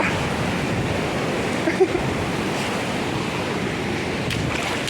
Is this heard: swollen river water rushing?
yes